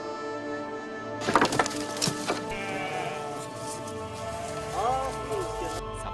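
Sheep bleat repeatedly in a village in the Taklamakan desert, several calls overlapping at mid distance over a steady background hiss, with one later bleat standing out alone.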